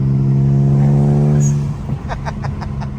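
An upgraded twin-turbo six-speed manual BMW 335i, rear-wheel drive, revs hard with a loud, steady droning engine note, then the pitch drops and rhythmic turbo flutter and crackles follow as the throttle lifts between shifts.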